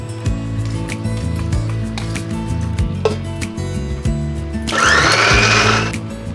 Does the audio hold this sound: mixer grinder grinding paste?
yes